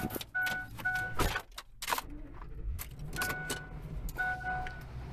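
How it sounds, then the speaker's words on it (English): A car being backed out during a vehicle transport pickup, with engine hum, jangling keys and mechanical clunks and thumps close by, steady throughout. "Okay, I'm gonna back this out."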